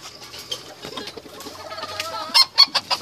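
Gamefowl hens and roosters in a fighting-cock yard in Morelos: scattered close clucks and soft throaty calls building to a few loud, sharp squawks near the end, with no talking.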